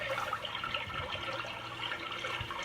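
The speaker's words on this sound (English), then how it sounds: "Here's a brook." Babbling brook setting on a white noise sound machine, a steady close wash of trickling water that runs evenly with no pauses or talk.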